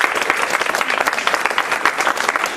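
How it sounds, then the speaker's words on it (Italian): An audience applauds a 102-year-old woman at her birthday celebration in Palizzi, steady dense clapping filling the space from start to finish at full strength. "tutti voi la signora cara Peppina Siviglia, a cui un applauso."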